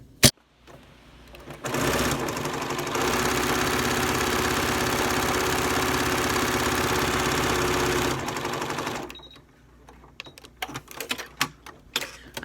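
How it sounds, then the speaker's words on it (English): A sewing machine back stitches a fabric face mask in one steady, close run of about seven seconds, followed by scattered clicks and handling noises. "I am back stitching at the edge of each stitch just to make sure it holds sturdy."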